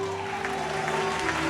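A church congregation applauds a prophet, a dense, steady wash of clapping from a large crowd that fills the whole moment without pause.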